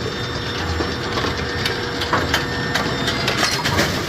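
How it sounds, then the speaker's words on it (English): A Brunswick A2 bowling pinsetter cycling after its clutch is tripped by hand, a loud continuous mechanical grinding and clattering of gears and ratchets with repeated knocks throughout, heard close inside the machine area with no talking. "Our machine cycles when we manually trip the clutch."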